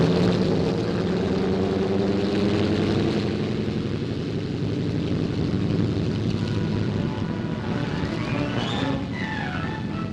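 Vintage RAF bomber aircraft engines drone loudly and steadily as propellers churn, a close, sustained roar that shifts slightly in pitch as the plane passes.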